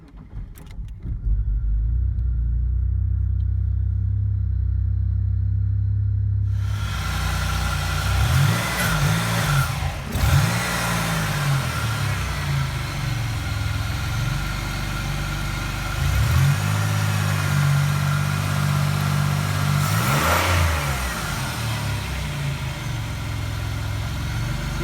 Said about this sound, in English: So let's give it a start, see if it will start.